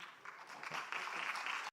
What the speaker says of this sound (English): please encourage them and clap loudly for them